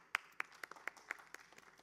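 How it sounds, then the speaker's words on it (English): Applause for a two-person team at a workshop event, a short run of about ten sharp claps that sounds like one or a few people clapping rather than a full crowd. "Can we have a round of applause for Hari and Ranjan, please, guys?"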